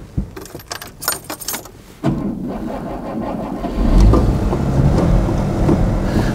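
A vintage Mercedes with column gearshift: keys jangle and clink near the ignition, then the engine cranks and catches, settling into a loud steady idle before revving up as the car pulls away, with no talking.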